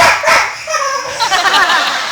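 A person imitates a happy dog with a short run of bright, yipping barks, a few quick vocal bursts close up.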